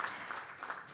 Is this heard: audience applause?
yes